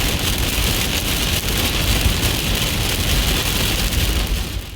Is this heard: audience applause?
no